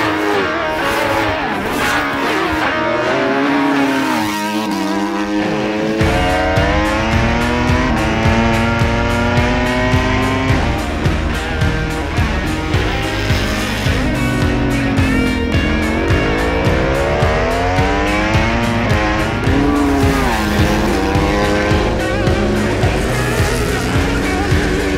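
A superbike screams at full throttle on a race track, the engine climbing through gears in long rising howls with brief shifts between them, loud and close throughout, with faint tire noise underneath.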